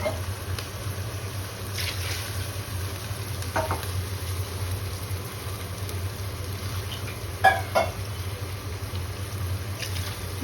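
Young jackfruit curry sizzles steadily in a pan as it is sautéed, a constant frying hiss with a few scraping stirs of the spoon standing out now and then, and no voices.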